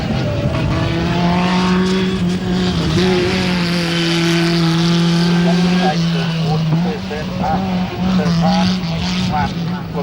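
A race car at a hillclimb at Collingrove, Australia, roars loudly and close, its engine note holding high and then dipping as it lifts off, with a commentator talking over it throughout.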